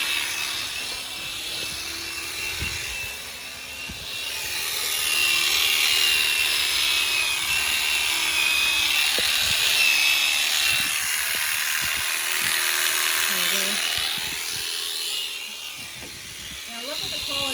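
Electric shears cutting through a sheep's fleece, a steady buzzing drone that swells louder midway and runs on continuously, with occasional voices in the background.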